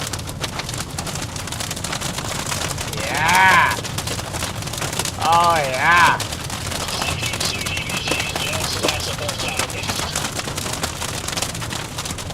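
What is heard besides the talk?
hail falling during a storm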